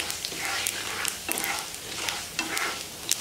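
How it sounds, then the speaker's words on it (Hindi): Urad dal roasting in a pan, with a continuous bright sizzle and crackle over which a spoon stirs and scrapes at irregular intervals, close and fairly loud. "इसको अच्छी तरह से कलर आने से भूनेंगे, यानी उड़द की दाल को अच्छी तरह से गोल्डन करना है हमें।"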